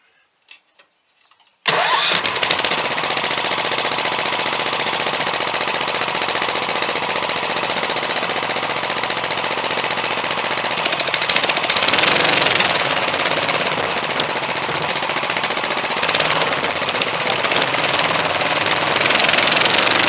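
A go-kart's small engine cranks to life after a brief quiet moment, then runs loudly and steadily close by, the revs rising and falling without a break.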